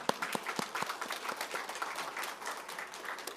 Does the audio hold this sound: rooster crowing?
no